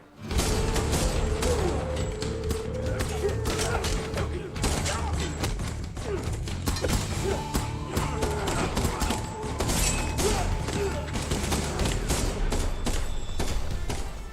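Dense gunfire from the action film John Wick: Chapter 4 plays loudly and continuously, with bursts of shots, thuds and crashes layered over a score, while people talk over it.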